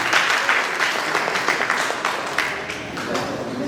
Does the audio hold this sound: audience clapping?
yes